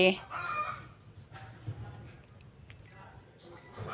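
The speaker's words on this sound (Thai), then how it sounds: "มีเสียงไก่ด้วยนะจ๊ะ เสียงไก่" Hens clucking and a rooster calling at a distance on a chicken farm, mixed with steady outdoor background noise and occasional voices.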